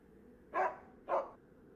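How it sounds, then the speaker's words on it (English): A dog barks twice in the Dracula 3: Path of the Dragon video game, two short, evenly spaced woofs standing out over a faint ambient background. "Can you hear the dog?"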